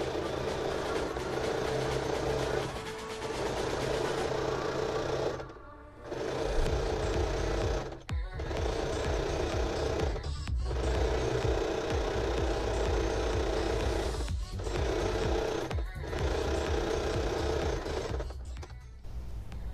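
A sewing machine stitches the sleeve finish on a tulle blouse, running loud and steady in long continuous bursts with a few brief pauses between runs.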